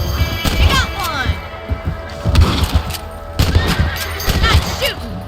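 Gunshots ring out while hunting rabbits in Red Dead Redemption, coming as several loud, sharp reports spaced across a few seconds, with voices talking in between the shots.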